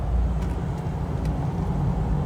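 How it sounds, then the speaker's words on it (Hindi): A car cruises at 80 to 90 along a smooth road, a steady low rumble of engine and tyres throughout with no speech. "गाड़ी चल रही है 80-90"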